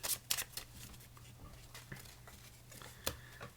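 Playing cards being shuffled during a beginner card trick, a quiet series of crisp riffles and flicks in irregular bursts, close and faint against a low hum.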